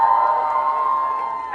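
A college audience at Mithibai College cheers in a steady, fairly loud crowd roar that holds evenly for a moment and then tapers slightly.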